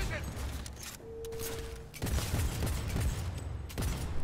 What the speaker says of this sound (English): There's so much recoil on this gun.